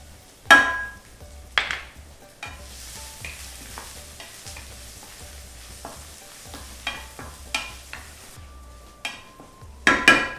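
Ginger and garlic fry in a pan for lobia pulao with a low sizzle, broken by repeated sharp scrapes and clanks of a spoon stirring against the metal at close range, and no talking.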